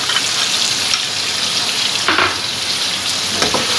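Steady crackling sizzle of chicken frying in hot oil with ginger garlic paste, with a few brief louder spatters and stirring.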